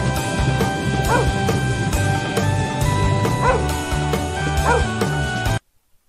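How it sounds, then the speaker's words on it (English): A dog barks in short bursts a few times over the bouncy music of a children's alphabet song, each bark standing out clearly before the sound cuts to silence. "D for dog."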